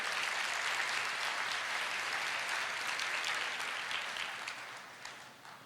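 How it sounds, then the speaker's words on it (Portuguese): Church congregation applauding after a prayer in a worship service, a dense sustained wash of clapping that gradually fades and thins out toward the end, with no talk over it. "Vamos aplaudir ao Senhor"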